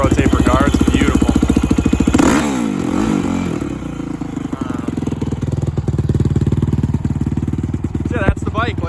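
A 2006 Honda CRF450R motorcycle engine idles with a rapid, loud, close-up thump, its throttle blipped into rising revs that fall back, and it stays running throughout.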